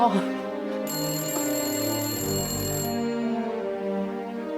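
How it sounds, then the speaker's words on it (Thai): A telephone rings indoors in a Thai comedy theatre scene, a steady electronic ringtone that runs for several seconds at moderate loudness, close by, with a voice briefly under it. "โทรศัพท์มา"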